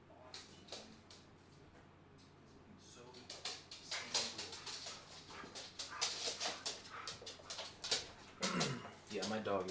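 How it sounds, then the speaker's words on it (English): An excited house dog whimpers, yips and barks behind a closed door indoors as someone arrives home. The noise is loud and continuous in bursts, with people talking over it. "my dog is going absolutely bonkers"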